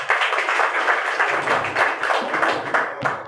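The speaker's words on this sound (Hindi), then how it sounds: "श्री रिक्की अरोड़ा, जोरदार तालियों से स्वागत।" A crowd at a public gathering gives loud, sustained applause, dense clapping from many hands continuing without a break, near and steady.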